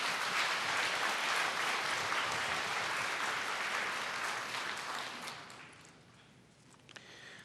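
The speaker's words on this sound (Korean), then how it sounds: "우리 힘차게 우리 큰 박수로 우리 환영하도록 하겠습니다." A church congregation applauds loudly for several seconds at a Sunday service, the dense clapping then thinning out toward the end with a few scattered claps.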